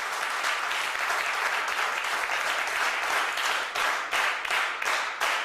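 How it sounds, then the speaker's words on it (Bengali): An indoor audience breaks into sustained applause in honour of a person at a motivational sales event, a dense wash of many hands clapping that holds steady and thins into scattered claps near the end. "ওনার জন্য একটি সম্মান সূচক করতালি।"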